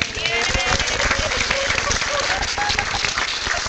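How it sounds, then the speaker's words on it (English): Sustained audience applause for author Megan Timothy at the close of an evening Q&A at Palomar College in San Marcos, a dense steady wash of many clapping hands with faint voices mixed in. "please give Megan a round of applause"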